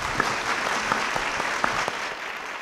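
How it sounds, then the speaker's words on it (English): A seated audience at a small-business cybersecurity event applauds its panel with steady, moderately loud clapping from many hands, a continuous wash with a few sharper individual claps standing out. "Let's give this panel a round of applause."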